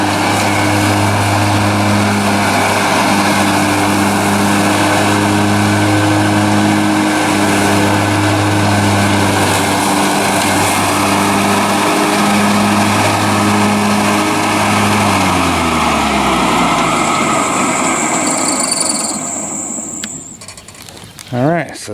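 A remote-controlled riding lawn mower runs its engine under test, producing a loud, steady, throbbing hum close by for about twenty seconds before winding down, with a brief higher tone and clatter near the end.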